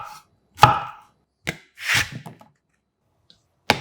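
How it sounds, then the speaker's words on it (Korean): A knife chopping zucchini into thick slices on a cutting board in a home kitchen: a few distinct close, sharp chops separated by pauses, with no voices. "짜글이에 빠지면 섭섭한 애호박 3분의 1개는 4등분 후 1cm 두께로 썰어줍니다."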